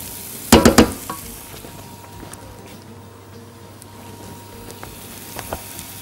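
Chicken and onions frying in a pan, a continuous low sizzle that opens with a few sharp clanks of a utensil against the pan.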